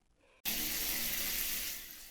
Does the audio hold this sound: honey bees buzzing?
no